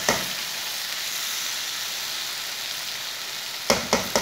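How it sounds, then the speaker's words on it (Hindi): Okra (bhindi) fries on a high flame with a steady, close sizzle, and a few sharp stirring clanks sound near the end. "2 मिनट के लिए ऐसे ही थोड़ी सी तेज़ आंच पर इसे भून लेंगे।"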